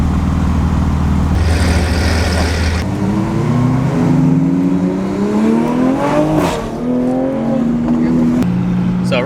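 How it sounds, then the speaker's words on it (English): A Porsche engine idles and runs steadily at a car meet, with a low harmonic drone under continuous nearby talk from someone speaking close to the microphone. "Hopefully you can hear me over this pretty clean Porsche."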